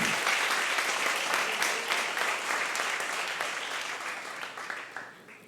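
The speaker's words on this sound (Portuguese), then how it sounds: "Você pode dar um aplauso a Ele?" A church congregation applauds at a worship service, a loud, dense wash of many hands that starts at full strength and slowly tapers over several seconds, with faint voices mixed underneath.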